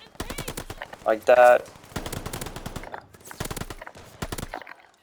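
Call of Duty gameplay gunfire: several short automatic bursts and single shots ring out with brief gaps between them, while a voice talks over the shooting.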